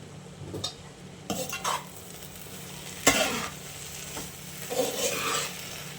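Tawa pulao base with butter and coriander is stirred in a pan, with a soft sizzle under intermittent spatula scrapes and metallic clanks against the pan.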